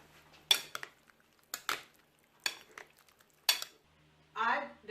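Okra salad being mixed with an apple cider vinegar dressing, heard as four separate scraping, clinking utensil strokes against a bowl and then a softer rustling toss at the end, close and with no talk.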